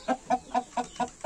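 A rooster clucking in a steady series of six short, evenly spaced calls, close and fairly loud, with no other sounds.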